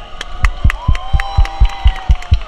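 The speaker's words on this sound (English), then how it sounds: "don't forget about the thunderous applause for yours truly" Audience applause at a Disney's Hollywood Studios ride show, heard as about a dozen sharp, evenly spaced claps and thumps over a steady crowd hum, with faint cheering mixed in.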